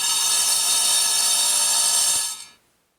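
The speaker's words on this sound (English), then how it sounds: "I cheated and used a diamond tip tile saw to cut my slate into thin strips" A diamond-tipped tile saw cuts slate into thin strips with a loud, steady, high-pitched whine and grinding that holds for over two seconds before spinning down and stopping.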